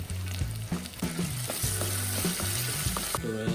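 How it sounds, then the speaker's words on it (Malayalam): Ginger and garlic sizzle briskly in hot coconut oil in a pan, a continuous close frying hiss heard under background music. "വെളിച്ചെണ്ണ തിളച്ച് വരുന്നുണ്ട് അപ്പോൾ നമുക്ക് ഉരുവണം നമ്മുടെ ഇഞ്ചി വെളുത്തുള്ളി തിളച്ച് വെച്ചിട്ടുണ്ട് ചേർക്കും ഇട്ട് കൊടുക്കാം"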